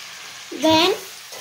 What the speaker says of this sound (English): let's just mix this palak. And let it get cooked for some time.